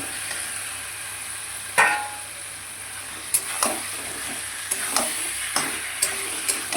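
Potatoes added to a pan of spices and tomato fry with a steady hiss, broken by several sharp clinks and scrapes of a spatula stirring, close and fairly quiet with no talk.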